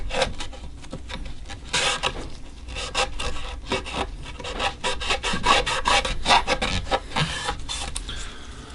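Dry rasping strokes of stain being rubbed into the poplar pickup cavity of a quilted maple guitar body, repeated scrubbing swipes close up and steady, with no talking.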